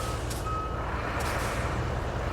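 A transport truck reverses into a parking spot in the RoadCraft game, its reversing alarm beeping steadily over a loud, constant low engine rumble, with no talk.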